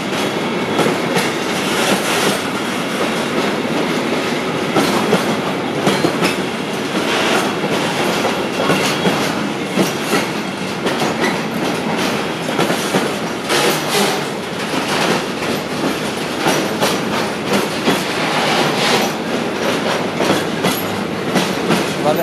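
Train rolls through Łowicz Główny station in the evening, a continuous loud rumble with rhythmic clickety-clack of wheels over rail joints lasting the whole stretch.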